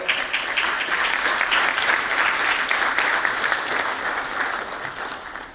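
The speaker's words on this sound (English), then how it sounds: "Loud clap for them." Audience applause at a national management convention in a hall, a dense, steady roar of many hands clapping that holds evenly and tapers slightly at the end, with no voices over it.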